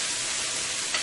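Onions sauté in oil with a dense, even sizzle, heard close up and alone for a brief moment, with no talking.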